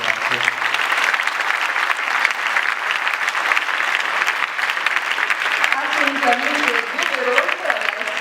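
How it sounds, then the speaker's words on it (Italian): Audience applause at a celebration in the Goldoni theatre, long sustained clapping from a large crowd, loud and even, with a voice speaking briefly over it near the end. "Quindi io farei un applauso e coinvolgerei nella festa anche i nostri genitori."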